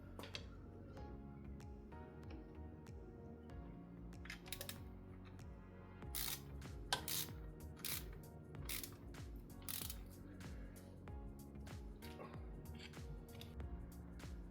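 A ratchet clicks in short runs to lock down the tensioning bolt on an alternator in a Lotus Europa restoration, with quiet, close ticking bursts and brief sharper clatters midway.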